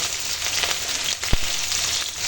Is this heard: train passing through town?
no